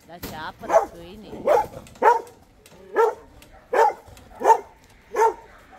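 Dogs at a rural home in Zlatna, Alba, bark in a steady series of about eight loud, closely spaced barks; a voice is heard early on.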